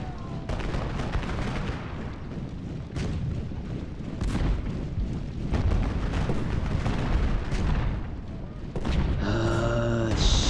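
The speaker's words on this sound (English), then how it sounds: "Artillery needs to unlimber and start firing." Artillery fire in the Ultimate General Gettysburg video game: a steady barrage of booming cannon shots, with repeated blasts rolling over a dense, continuous battle din for the whole stretch.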